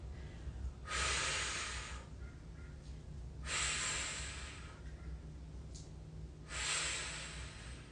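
A person holding an exercise position takes slow, audible breaths close to the mic, three long hissing exhales spaced a few seconds apart, with no talking.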